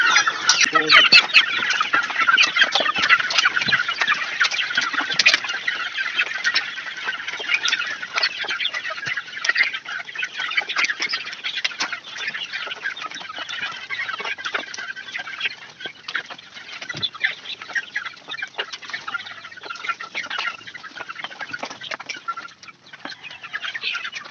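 A flock of young chicks peeps continuously while being fed, with dense, overlapping high-pitched chirps throughout, loud and close with no break.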